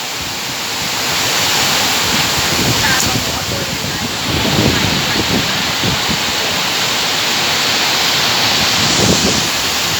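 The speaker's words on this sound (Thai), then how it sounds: "ดูลมครับ ดูเม็ดฝนนะครับ" Heavy rain driven by strong wind, a dense, roaring wash of noise with gusty low rumbles of wind buffeting the microphone throughout.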